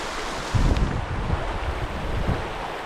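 A river near hot springs in remote Iceland rushes in a steady, close broadband wash, with gusts of wind buffeting the microphone and no voices.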